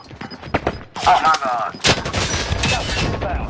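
Bursts of gunfire in the video game Warzone, rapid close shots and sustained automatic volleys with loud cracks, mixed with game sounds and faint talk.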